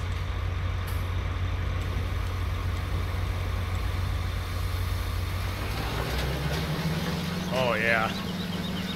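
Tractor engine in Farming Simulator hauling a baler and soybean drill, a steady low diesel drone running throughout, with a short spoken remark near the end.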